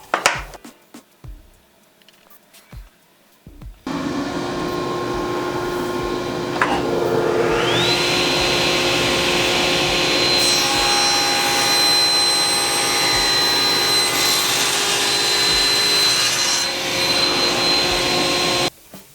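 A power tool cuts off a wooden dovetail inlay with a loud, sustained whining roar that starts abruptly after a few soft knocks and holds steadily to the end, its pitch rising once early on.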